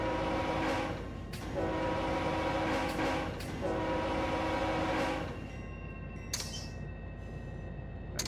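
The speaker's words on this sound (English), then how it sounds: "I just leave the horn running." A locomotive horn blares in the Run 8 train simulator while a local freight train rolls toward waiting cars, the sustained tonal blast sitting over a constant rail rumble and coming through clearly in the later part.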